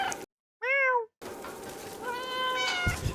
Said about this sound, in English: There's a meow button.